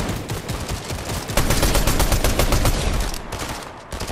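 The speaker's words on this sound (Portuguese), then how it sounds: "Ele tá atirando em mim." Rapid gunfire in a Fortnite match, dense overlapping bursts of shots that stay loud and continuous for several seconds with a stronger volley midway.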